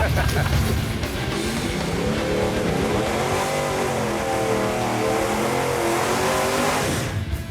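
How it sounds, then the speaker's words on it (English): A 1970 Ford Mustang engine revs and roars continuously, its pitch climbing and sweeping as it accelerates, loud and close throughout. "Car sounds good."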